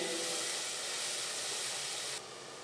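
Leek whites sweating in olive oil in a pot give off a steady, soft broadband hiss that stays even throughout and drops slightly in level near the end, with no talking.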